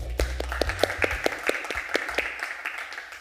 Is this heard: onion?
no